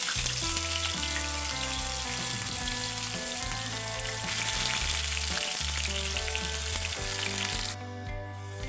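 Chopped onions frying in hot oil with dried red chillies for a ridge gourd curry tempering, a steady loud sizzle under prominent background music, the sizzle dropping out near the end.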